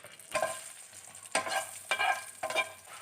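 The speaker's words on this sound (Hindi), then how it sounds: "इसको अच्छी तरीके से भूनने के बाद अब हम इसमें डालेंगे हरी मिर्चें।" Slit green chillies frying in a pan for mirch masala, a soft sizzle with four distinct scraping stir strokes, close by.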